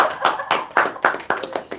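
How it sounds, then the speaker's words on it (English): A small group claps in quick, steady bursts at a Bel-Rea Institute graduation ceremony, a short patter of applause close by with no talking. "Oh, where's the applause?"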